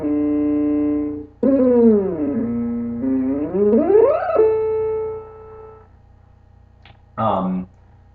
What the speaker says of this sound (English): as I turn it up here, I will get some distortion, much like a guitar pedal